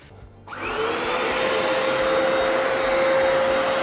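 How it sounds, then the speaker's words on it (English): A VAX carpet cleaner/washer starts up after a brief quiet moment and runs steadily in suction mode, drawing moisture from carpet with a loud, continuous whine and rushing airflow close to the mic. "that's now actually drying and sucking up any moisture because we're not using the trigger"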